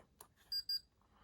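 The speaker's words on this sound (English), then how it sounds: "it'll acknowledge that we've turned it on by giving a little beep." Two short, high electronic beeps sound in quick succession after a faint click, in an otherwise quiet setting, as a REM POD ghost-hunting detector powers on.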